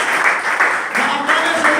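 A church congregation claps and acclaims Jesus during worship. The applause is loud and close, with rhythmic bursts rising and falling, and voices mixed into the sound.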